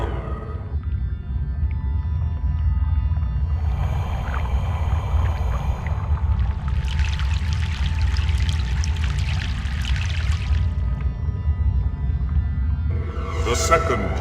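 In Broken Sword 3, a boat crossing a river churns up a steady, loud rush of splashing water above a low rumbling drone, the spray rising in waves and then fading.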